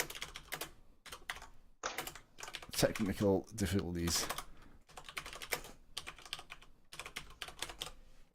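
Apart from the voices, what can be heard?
typing on a computer keyboard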